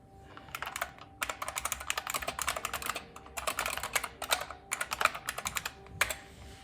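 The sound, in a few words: typing on a low-noise computer keyboard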